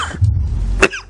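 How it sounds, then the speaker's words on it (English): A single short cough bursts out from a person close by, loud and isolated after a brief breathy lead-in. "Coughing too."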